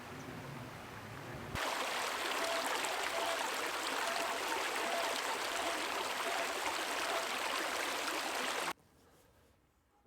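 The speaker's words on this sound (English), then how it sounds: "Man, I could hear the water running all night long." Running creek water in the Tahoe and Plumas National Forests, a steady broadband rush that starts abruptly, holds evenly for several seconds, then drops away to near quiet.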